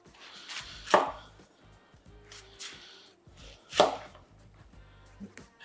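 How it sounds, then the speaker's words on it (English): Knife slicing capsicum into strips on a board, a few soft cuts with two louder sharp chops landing against the board, close and fairly quiet with no talk. "And then just slice it into strips."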